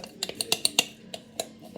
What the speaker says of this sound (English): And then give it a really good stir.